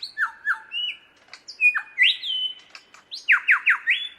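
A superb lyrebird mimics a shrike thrush, giving clear, close whistled notes that swoop downward and repeat in quick series, with brief squawky clicks between the phrases.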